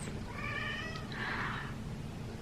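A pet cat yowls for attention with a long, strained, wailing meow that rises then breaks into a rougher cry, fairly faint over steady room hum.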